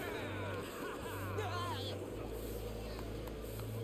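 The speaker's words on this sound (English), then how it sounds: "That was a loud car outside." A loud car passes outside, heard as a low engine rumble behind indoor talk, with voices speaking over it throughout.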